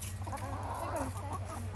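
Molting backyard hens cluck softly and intermittently at close range over a steady low background hum.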